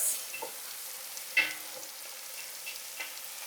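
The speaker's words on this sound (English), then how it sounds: "Just stir it to fry for a bit." Red and yellow bell peppers stir-fried in a pan, a soft steady sizzle broken by a few light scrapes and taps of the spoon, close but quiet.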